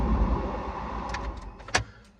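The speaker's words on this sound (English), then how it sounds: "turn my car off real quick and I'm gonna start it back up again" A 2010 Ford Focus being switched off, its steady idle hum fading under a few light clicks and a sharp mechanical clunk near the end, heard from inside the car.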